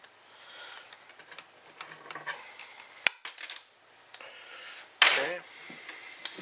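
Metal strip stock being cut again with a hand tool while making lock picks: scattered sharp clicks and snips, with a loud crunch near the middle and another toward the end.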